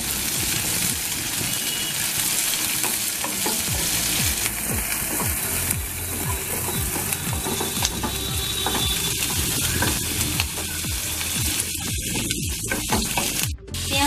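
Chopped onion fries in a pan for paneer bhujiya, giving a steady, close hiss with rapid scraping and rattling from stirring throughout.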